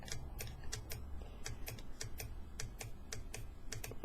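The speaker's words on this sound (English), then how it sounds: "I'm sorry about the keyboard there." Rapid computer keyboard typing, a steady run of crisp, close clicks with uneven rhythm, heard alone without any talking.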